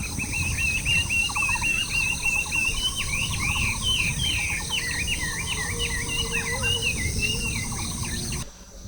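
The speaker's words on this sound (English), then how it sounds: "Listen to that bird." A bird sings a continuous, warbling series of chirps and trills nearby on Sixty Stone Mountain, Hualien, Taiwan, in early morning, with a rough outdoor background noise underneath.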